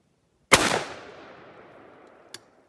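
A 16 gauge shotgun fires a single 1.5 ounce turkey load of number 6 shot outdoors, one loud close blast with a long fading rumble, then a small sharp click about two seconds later.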